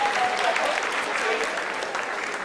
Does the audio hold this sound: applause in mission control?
yes